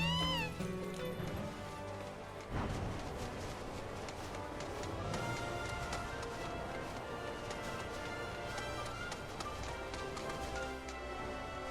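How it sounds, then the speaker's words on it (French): A cat meows in a Final Fantasy VII Rebirth side-quest scene in Cosmo Canyon, its calls rising over steady game music and ambience with no talking. "Ah, mais là, tu gênes le chat."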